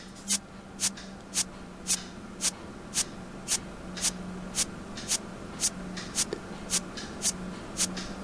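A PowerPoint fast photo shuffle slide sound effect: short, sharp swishing ticks repeating at a steady quick rhythm, roughly two per second, over a faint hum.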